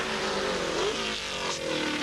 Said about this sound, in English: number 72, that's Steve Cole from Liverpool in the TVR 420